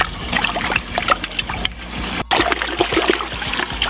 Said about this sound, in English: Let's see what happens when I rinse it off, huh?